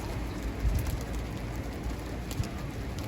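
Soft pigeon coos sound faintly from a rooftop over a steady background hiss, with a couple of low murmuring calls standing out briefly.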